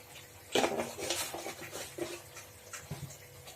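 A spoon stirs sugar into sour curd in a wok, giving soft scraping and clinking against the metal with a few louder knocks, fairly close.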